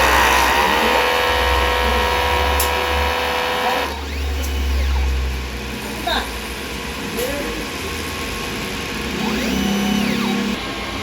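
A DTF printer running a print head cleaning cycle, with loud whirring motor and pump noise, shifting mechanical tones and brief clicks, while a person talks over it.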